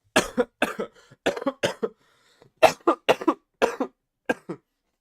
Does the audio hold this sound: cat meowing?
no